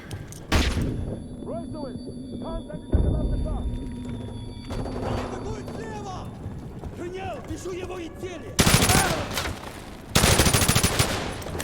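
Machine gun fire in Call of Duty Modern Warfare 2 Remastered: several loud automatic bursts break out at intervals, with someone talking between and over them.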